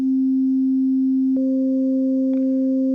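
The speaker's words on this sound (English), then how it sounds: "starting with waveform 34, which is your sine wave" A steady pure synthesizer sine tone using waveform 34 holds throughout, then a second higher sine pitch joins partway and sustains alongside it, loud and clean with no other sounds.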